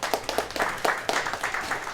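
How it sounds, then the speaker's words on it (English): A small audience at a downtown community initiative event gives a brief, sparse round of applause, with scattered individual claps and a few distinct sharp hits. "So give yourself a round of applause for just coming here,"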